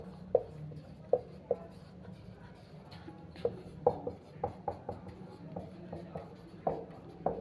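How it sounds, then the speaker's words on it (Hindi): Handwriting of a chemistry lecture topic, with a pen or chalk tapping and scratching in short irregular strokes and distinct clicks, close and quiet with no talking. "इसका टॉपिक लिख लेते हैं"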